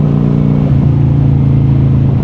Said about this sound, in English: I wanted you to hear some of the exhaust. The exhaust on this bike is absolutely cool.